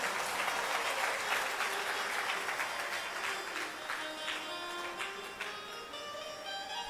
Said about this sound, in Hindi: तालियां कुछ ज्यादा मरी मराई नहीं बजी हैं।